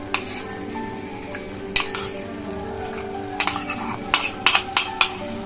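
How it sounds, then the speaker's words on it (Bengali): Whisked sour yogurt goes into a hot pan with a low, steady sizzle, punctuated by sharp spoon clinks and scrapes against the metal, clustered toward the end. "এবার আমি এই ফেটানো টক দইটা দিয়ে দিচ্ছি।"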